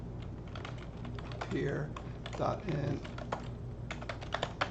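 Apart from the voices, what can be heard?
typing on a computer keyboard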